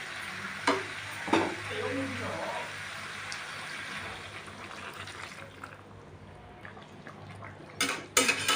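Chicken and jackfruit sizzle and fry in a pan just after water goes in. A steady close hiss runs throughout, with a few sharp clinks of stirring near the start and the end.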